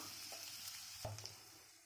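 Two finely chopped medium onions sizzle gently in melted butter for egg bhurji, a soft steady hiss with a few faint stirring clicks and a brief clatter near the middle.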